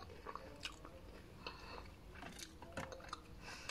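A crunchy biskotso biscuit with sesame seeds and butter is chewed up close in a quiet room, giving irregular crisp bites and crunches over several seconds with faint clinks in between.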